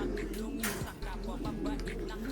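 Pigeons coo softly in a loft, low throaty calls repeating at a moderate distance, with faint background voices.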